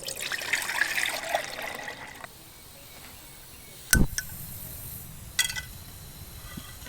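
Water pours steadily into a small metal Halulite camp boiler for about two seconds, then stops, followed by a couple of sharp metallic clanks.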